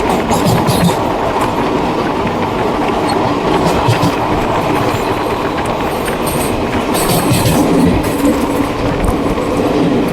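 Indian Railways 20402 shuttle superfast train running on its tracks, heard from onboard: a loud continuous rumble with rhythmic clickety-clack of wheels over rail joints and occasional faint squeals.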